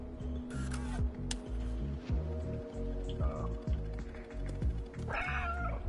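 Meows from a cat in the video game Stray rise above a dense, steady bed of game music and ambience, with a few short cries spread across the clip and no voice.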